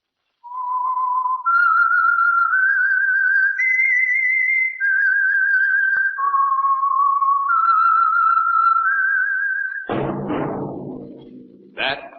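A clear, steady whistled melody of sustained notes stepping up and down, loud and close, ending as a voice begins to speak.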